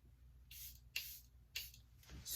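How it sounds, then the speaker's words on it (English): Charlotte Tilbury setting spray hisses onto a face in short, close pumps, about four quick bursts spaced roughly half a second apart in a quiet room. "I'm gonna take some of that Malibu. I have good old Charlotte Tilbury."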